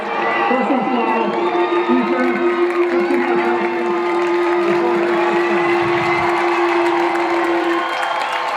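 A crowd roars at a high school football game, a broad steady wash of cheering and noise with a sustained tone through most of it and a voice talking over it.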